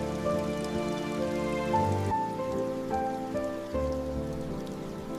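Rain falling steadily on a rainy day, a continuous patter mixed with soft sustained background music, with no talking.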